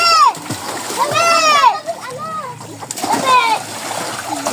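Children splash about while swimming, water slapping and sloshing continuously under their loud, excited shouts and chatter.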